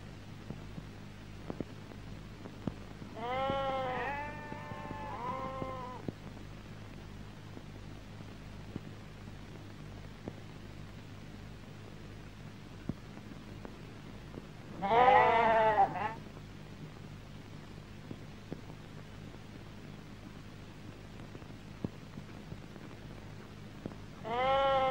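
Goats bleating somewhere on a farm: a short run of wavering bleats, a pause, then a louder, nearer burst of calls over a steady low hum.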